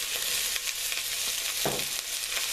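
Peppers, onion and celery sauté in warm oil in a pot for veggie jambalaya, giving a constant moderate sizzle with a brief stirring scrape near the end.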